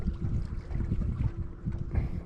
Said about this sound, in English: Of course, I got the wind picking up on me.